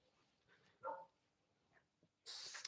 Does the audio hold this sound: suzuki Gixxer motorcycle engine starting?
no